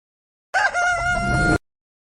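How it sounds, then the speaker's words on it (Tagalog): A rooster crows once, loud and close, a drawn-out tonal cock-a-doodle-doo of about a second that starts and stops abruptly amid silence. "Manok nga."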